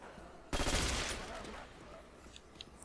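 A burst of rapid machine gun fire in Call of Duty: World at War Nazi Zombies erupts suddenly, then trails off into faint background noise with a few distant sounds.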